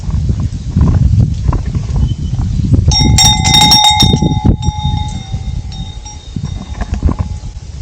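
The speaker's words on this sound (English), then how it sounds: "Ring the bell." At an outback campsite on Trilby Station, a bell is rung in a quick run of bright metallic strikes mid-clip that ring on and fade. Rustling and thumping handling noise surrounds the strikes.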